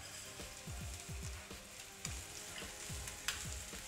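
Rice fries in a pan with browned onion and garlic, a soft continuous sizzle with repeated stirring scrapes at a steady rhythm and no talking.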